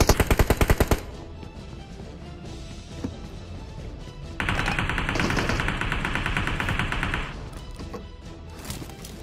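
Shooter video game gunfire opens with a rapid burst of about eight evenly spaced shots, then scattered single shots and thuds, followed by a sustained loud rattling stretch of fire that cuts off abruptly.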